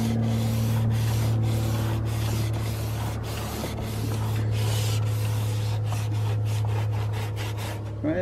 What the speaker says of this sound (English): I'm not making like a hard line by just sanding with my finger